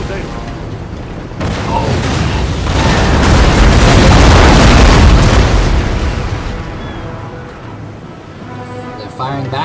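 Naval cannon fire and hits in the Napoleon: Total War video game: a loud, sustained roar of booming shots and impacts that swells and then eases off, with a brief exclamation from a voice.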